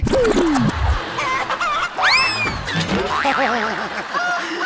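A rooster crows loudly nearby, with clucking and other fowl sounds over a busy, noisy background.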